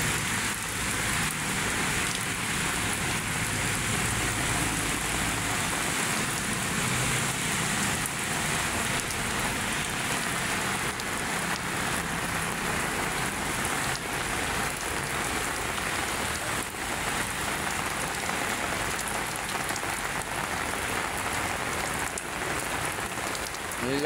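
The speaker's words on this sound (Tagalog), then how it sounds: "Lakas ng ulan, oh" Heavy rain falls at Manila Bay in a constant loud rush for a long stretch, with faint murmured talk now and then beneath it.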